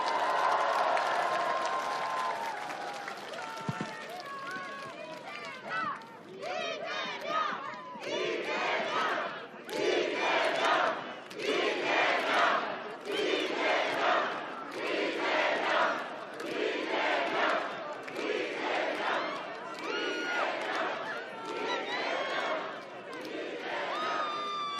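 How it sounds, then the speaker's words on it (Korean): A large crowd at a Lee Jae-myung campaign rally in Jeonbuk roars with cheers and shouted chants, then breaks into rhythmic bursts of applause and chanting that rise and fall steadily, loud and sustained throughout. "여러분 큰 박수와 함성"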